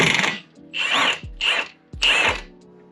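An impact wrench takes off rusted, badly rounded wheel nuts on a Ford Fiesta ST, firing four loud, close rattling bursts of hammering, each under a second, with brief gaps between them.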